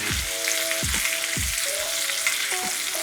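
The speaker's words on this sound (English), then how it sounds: "The butter will start melting, and all we're going to do is we'll push the steak forward a little bit, tilt the pan back," A steak sizzles loudly in a pan with melting butter as it is pushed forward and basted for a steak sandwich, with a steady frying hiss and a few low scraping knocks throughout.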